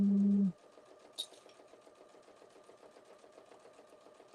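A sewing machine chain-pieces quilt pieces, stitching in a fast, even rhythmic whir after a loud initial tone, with a single click partway through.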